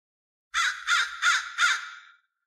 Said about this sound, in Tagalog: nakarinig kami ng huni ng mga ibon